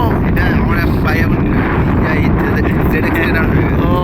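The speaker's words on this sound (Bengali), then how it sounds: "যা হাওয়া দিচ্ছে" Strong wind at Ajodhya Pahar roars and buffets the microphone in a loud, constant rumble, with people talking underneath.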